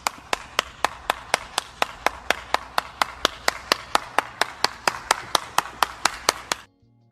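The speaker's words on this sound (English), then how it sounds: "clap for the white man right now" Steady hand clapping, about twenty sharp claps in an even rhythm, close and clear, stopping abruptly near the end.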